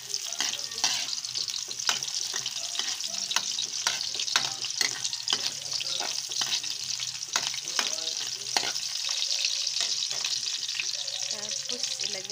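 Onion and garlic frying in a pan for a cabbage and bacon dish: a steady close sizzle throughout, broken by frequent scraping stirs of a spatula, with no talking.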